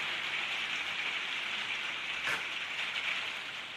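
Steady rain falls outdoors, a dense, even hiss that holds at a constant level for a few seconds with no voices.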